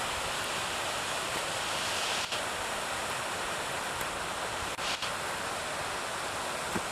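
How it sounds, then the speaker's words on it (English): A remote waterfall in the rugged wilderness of Kodiak Island, Alaska, gives off a steady, dense roar of rushing water that holds evenly throughout with no voices. "Here's a waterfall, it's just out in the middle of nowhere."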